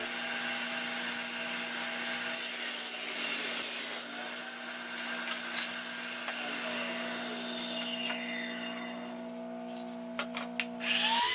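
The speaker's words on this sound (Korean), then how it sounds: "전면 테두리 부분을 약 11mm 남기고 잘라냅니다." A power saw cuts through the wooden front border of a mirror frame, a loud steady whine with rising and falling tone that runs nearly the whole time, ending with a few sharp knocks.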